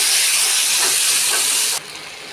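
Tomatoes drop into a hot pan of oil for a peanut and tomato chutney, setting off a loud, steady sizzle and hiss that drops abruptly to a quieter frying hiss near the end.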